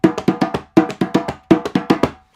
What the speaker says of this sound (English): if I put the djembe down on the floor and play it with the hole covered